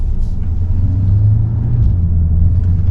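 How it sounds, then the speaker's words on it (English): A 2021 Chevrolet Corvette Stingray 3LT convertible cruising in sport mode at low speed, giving a steady, close, deep engine rumble with a slight swell partway through and no talking. "we're taking this beautiful 21 Corvette Stingray convertible 3LT out for a spin"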